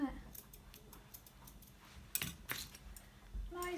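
A few sharp, quick metallic snips of scissors trimming a Havanese dog's hair sound close by, scattered among quiet rustling and handling noises.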